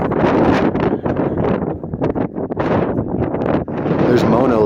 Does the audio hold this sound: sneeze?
no